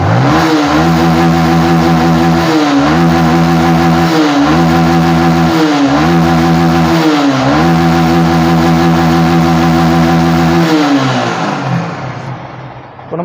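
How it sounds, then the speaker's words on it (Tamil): A Yamaha R15 motorcycle engine revved repeatedly and loudly, climbing and falling in about five rhythmic throttle blips over a steady idle, then fading out at the end. "இப்போ நான் வண்டி ரைஸ் பண்ணுறேன்."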